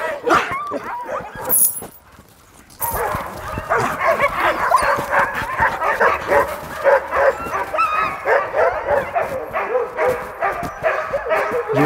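Excited sled dogs bark, yip and whine in a dense, overlapping chorus during training. The pack is close and loud, with a brief lull near the start before the clamor resumes and keeps going steadily.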